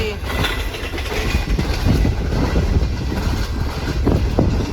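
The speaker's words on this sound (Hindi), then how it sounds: "तो मलिर कॉलोनी रेलवे स्टेशन से गुजर रही है हमारी ट्रेन" A newly built CRRC economy class coach on the 13UP Awam Express rolls along the rails near Malir Colony station, with a steady, loud rumble and faint rhythmic clatter throughout, wind noise over the microphone and voices underneath.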